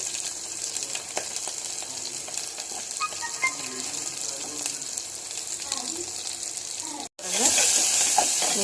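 Green chilies and onion pieces frying in a pan with turmeric, making a soft continuous sizzle with occasional stirring scrapes, then a louder hiss near the end after a brief break.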